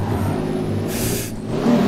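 Nissan S15 engine revving during a drift after a handbrake pull at Bikernieki, a steady loud engine drone with a brief hissing rush partway through.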